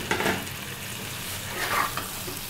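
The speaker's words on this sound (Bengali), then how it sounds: "এবার দিয়ে দিচ্ছি সেদ্ধ করে জল ঝরিয়ে রাখা এঁচোড়টা।" Boiled, drained jackfruit and potato stirred into a curry gravy in a pan for a party-style jackfruit and prawn curry, heard as a continuous soft sizzle with scraping stirs, no voices.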